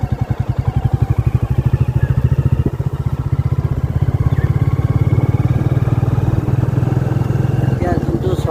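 A motorcycle engine thrums with a steady rapid pulsing beat as it rides along a four-lane hill highway, loud and close with rushing wind noise throughout.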